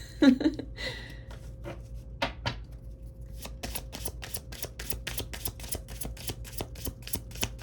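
A deck of playing cards is handled and shuffled close by, starting with a few scattered slides and taps and then settling into a long, rapid, even series of crisp riffling flicks.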